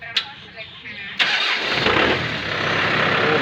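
A 2023 Kubota M6040 tractor engine cranks briefly after a moment of talk, then catches and settles into a loud, close, rumbling idle.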